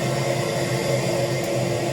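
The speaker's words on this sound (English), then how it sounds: "now there is someone vacuuming" A vacuum cleaner runs in the background with a steady, unbroken whirring drone and a low tonal hum, even in level throughout with no voices.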